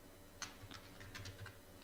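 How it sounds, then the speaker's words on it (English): Typing on a computer keyboard during an AI, IoT and ML class session, with quiet, irregular key clicks in short clusters over a low room hum. "So I am typing the same."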